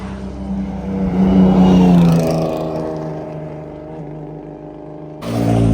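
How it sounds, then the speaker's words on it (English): McLaren F1 GTR supercar engine during unloading, a loud close revving drone that rises, holds and fades, then picks up again at the end. "We got the F1 GTR. It's gonna sound crazy."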